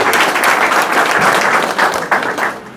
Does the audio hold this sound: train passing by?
no